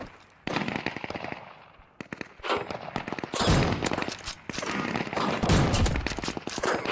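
Rapid bursts of automatic gunfire strafing in the survival shooter game Deadside, loud and close, with dense volleys of shots broken by short pauses and heavy low-end impacts.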